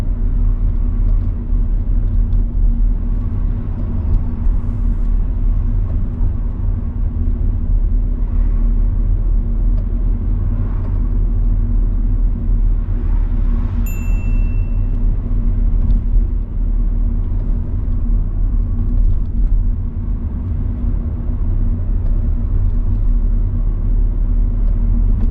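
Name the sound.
car driving through a narrow road during a driving test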